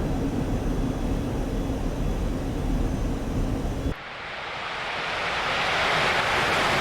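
Fighter jet afterburners light up for a takeoff run in the DCS flight simulator, a loud steady engine rumble that cuts into a rising broadband roar and keeps swelling with no talk over it.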